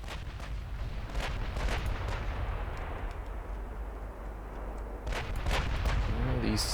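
Naval gunfire in the warship game Ultimate Admiral Dreadnoughts, deep booming salvos over a constant low rumble of battle, with a few distinct heavy shots standing out.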